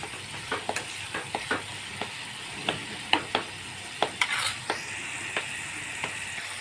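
Green onions fry in a pan for a Gujarati ringan no olo dish, a low background sizzle broken by frequent quick clicks and scrapes of a spoon stirring against the pan.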